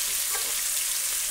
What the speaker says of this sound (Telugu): అట్లా ఒక్కొక్క ముక్కను అందులో వేసుకొని మనం వేయించుకోవాలండి.